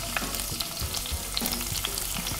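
Chopped onions fry in a pan for shrimp and spinach bow-tie pasta, a close continuous sizzle broken by frequent small crackles and a few stirring knocks.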